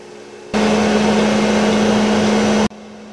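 A crankshaft grinding machine works a Jaguar 4.2L crank, a loud steady whirring grind with a constant hum that starts abruptly, holds for about two seconds and cuts off sharply.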